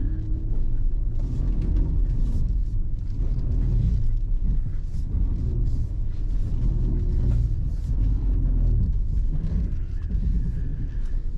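A 2022 Nissan Pathfinder works at full throttle off-road on a crusty slope, a deep continuous engine rumble with surging low drone, close and steady with no talking.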